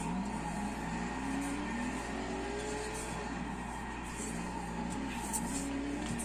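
In the Forza game, a 1,500hp Tokyo Drift Mustang slides through a drift, its engine droning and revving steadily under a continuous skidding tire squeal at moderate level, without speech.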